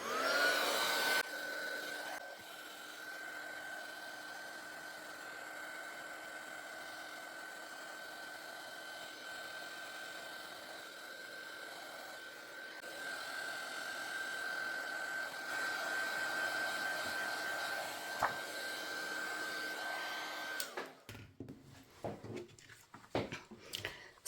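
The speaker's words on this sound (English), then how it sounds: "I'm coming in with my heat tool, and I want to melt this embossing powder." A heat tool blowing hot air to melt holographic embossing powder for stamping, a steady whirring blower hum held for about twenty seconds before cutting off to faint handling noises.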